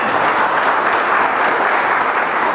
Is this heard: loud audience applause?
yes